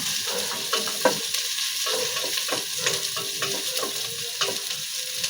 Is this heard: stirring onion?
yes